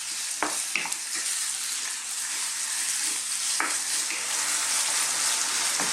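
Lamb and eggplant curry fries in a pan while being stirred, a continuous bright sizzle with a few scraping stir strokes, close and steady without speech.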